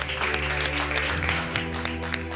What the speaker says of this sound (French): on peut t'applaudir pour ce joli parcours